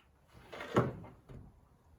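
A metal tool chest drawer slides open with a brief rolling rumble and a sharp clunk, followed by a softer knock, close by.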